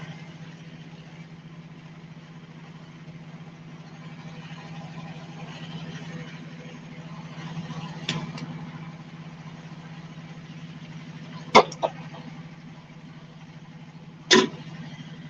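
A car engine idles steadily and fairly loud throughout, a constant low rumble with a few brief sharp clicks or knocks near the end.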